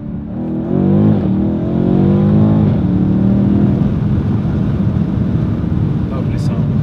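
Close and loud, a BMW M850i's engine revs up in a rising roar, peaks, then settles into a rough, steady exhaust burble as the revs fall away.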